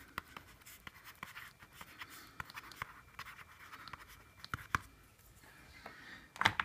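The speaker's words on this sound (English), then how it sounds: "It's very natural to write here." A stylus scratches and taps across the screen of a Sony Digital Paper tablet, making soft, close strokes and clicks in an uneven rhythm in a quiet room.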